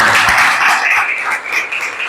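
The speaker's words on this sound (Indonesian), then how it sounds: "Kasih tepuk tangannya buat teman kita" A classroom group applauds a classmate who answered correctly during a religious lesson, a dense, steady wash of many hands clapping together for about two seconds, fairly loud and close.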